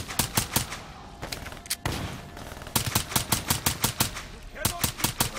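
Rapid automatic gunfire from the Black Ops 3 story campaign, several bursts of sharp evenly spaced shots with brief pauses between, loud and close, with faint background talk underneath.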